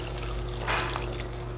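Water pours into a pot of beef stew in a brief gushing splash that swells for a moment over a steady low hum, with no talk during it.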